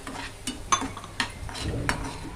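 Semolina dry-roasted in a pan for kesari, stirred with a run of rhythmic scraping strokes and light sizzling, close and fairly loud.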